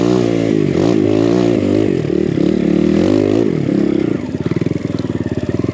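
BBR KLX170RF dirt bike pulling away on a single-track enduro trail, its engine revving up loudly and close, then settling into a steady rapid putter as it rides off.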